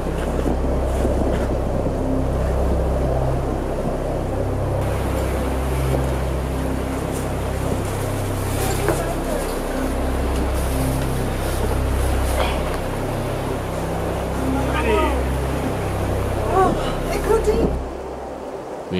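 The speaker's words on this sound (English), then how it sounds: "The wind is gusting to 40 knots, and as we have the more powerful tender, Chris runs the gauntlet to collect our gues" A powerful motorboat tender pounds through rough seas in the Aleutians with wind gusting to 40 knots, giving a continuous loud engine drone mixed with roaring wind buffeting and the rush and slap of waves throughout.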